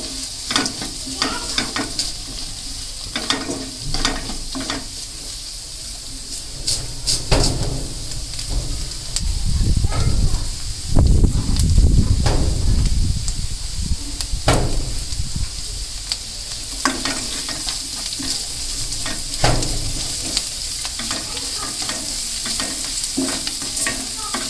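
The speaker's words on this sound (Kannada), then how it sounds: "ಇದು ನೋಡಿ ಚೆನ್ನಾಗಿ ಫ್ರೈ ಆಗಬೇಕು" Drumstick leaves frying and being stirred in a pan, a steady sizzle under scraping stir strokes that bunch up and grow louder midway, with no talk.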